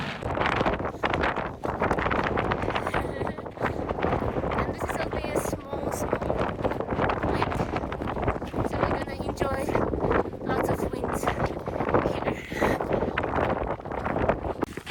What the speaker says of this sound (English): the weather is a little windy but great